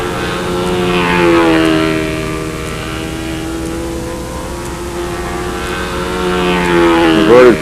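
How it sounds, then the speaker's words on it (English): Model aircraft flying inverted at a windy national competition, a steady droning engine with a rising and falling pitch as it passes, loud and continuous throughout. "Inverted flight looks real good."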